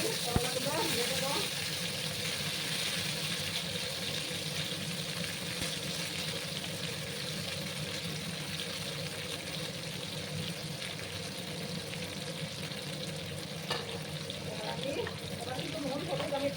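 Squeezed bitter gourd pieces fry in mustard oil in a pan, giving a steady, even sizzling hiss that runs unbroken throughout at moderate level, with faint voice in the background.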